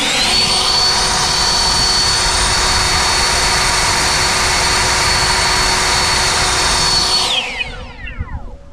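A cordless leaf blower runs on turbo, giving a loud, steady roar with a high whine for about seven seconds, then cuts off and winds down to quiet.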